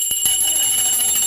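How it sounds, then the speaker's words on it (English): A short ringing bell sound effect on a morning radio show, a bright sustained tone over about a second with a faint rattling shimmer beneath. "The bell. I want the bell."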